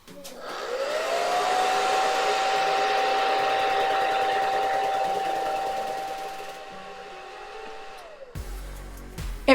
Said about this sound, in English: excuse my beat up hairdryer